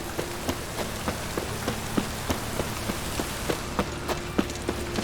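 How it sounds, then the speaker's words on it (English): Rain falling in the video game The Witcher 3, a steady patter on surfaces with distinct drops striking at irregular intervals, close and fairly loud, alone without talk. "Rain again."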